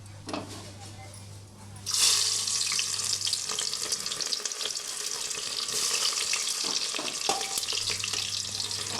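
Chopped onions hit a hot pan and break into a loud, steady sizzle that carries on under brief talking, with a few clinks of utensils.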